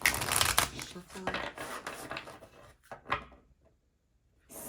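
Oracle cards are shuffled by hand, a quick papery riffling and flapping close by, busy and uneven for a few seconds, then fading to near silence with a soft rustle at the end.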